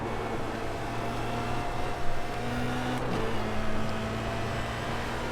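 A race car engine in the iRacing simulator at Imola, a steady droning hum with slight swells in revving, heard continuously and fairly loud without any talking.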